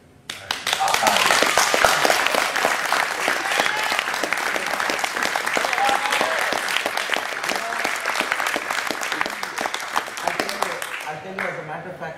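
Sustained audience applause from a lecture crowd, dense rapid clapping that starts abruptly and holds steady and loud for about eleven seconds before thinning out at the end.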